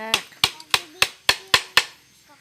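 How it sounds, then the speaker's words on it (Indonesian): A child hammers nails: seven sharp, evenly spaced strikes about a third of a second apart, close and loud, with faint voices between the blows. "Palu, belajar memaku ya."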